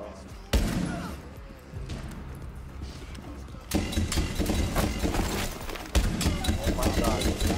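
Rapid bursts of gunfire from a Black Ops shooter game crack out in loud clusters, with sharp onsets around the middle and near the end over a busy game backdrop, while players talk throughout.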